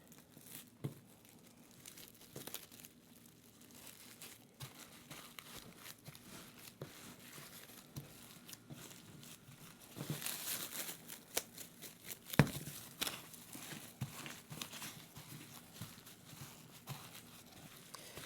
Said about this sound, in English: I'm going to transfer it to a piece of plastic wrap, and we're going to wrap this up and roll it into a log